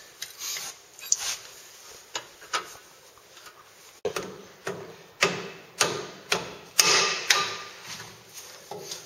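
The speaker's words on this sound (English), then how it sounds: "we needed to use a rubber hammer as to not warp any of the steel" A rubber hammer knocks at a brake caliper to free it, about a dozen dull thuds, sparse at first and then coming in a quicker, fairly regular series, close and loud, with no talk.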